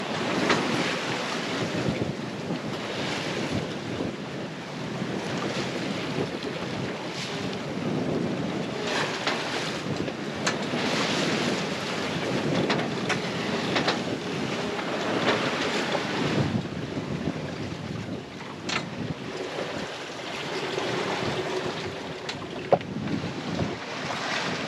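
Sailboat under way en route to Cat Island, with steady wind buffeting the microphone and waves washing against the hull, a continuous broadband rush throughout with no talking.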